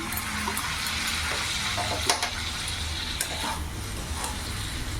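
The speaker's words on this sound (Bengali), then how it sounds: "মশলার বাটিটা ধুয়ে একটু মশলার জলটা দিয়ে দিলাম।" Water rinsed from a spice bowl goes into a pan of ginger, garlic and chilli paste while cooking jackfruit curry, and a steady close sizzle holds throughout with light stirring scrapes and one sharp splash-crackle.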